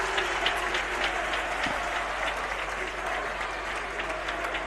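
A sports-hall crowd at the Palasport di Forte dei Marmi applauds after a Supercoppa Italiana return match, a dense, even wash of clapping from many hands that holds steady at a moderate distance from start to finish.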